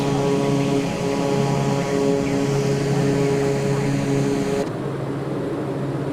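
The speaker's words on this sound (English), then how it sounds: "And we're in the turboprop." A turboprop airplane cruises fast in Microsoft Flight Simulator 2024, giving a loud, steady engine and propeller drone with humming tones that soften slightly near the end.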